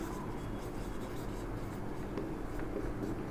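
Writing on a board during a thermal engineering lecture, a steady scratchy marker or chalk sound over a constant room hum, with no talking.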